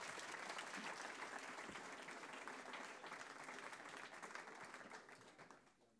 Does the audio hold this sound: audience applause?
yes